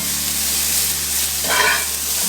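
Mushrooms with pepper sizzle steadily in a pan for a Swiss mushroom burger, with a brief louder scrape of a stir near the end; continuous close frying hiss, no talking.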